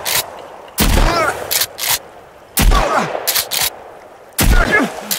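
Bursts of gunfire from a gun in the video game Sons of the Forest, three loud broadband volleys of rapid shots spaced a couple of seconds apart, each followed by short separate pops, with no talking.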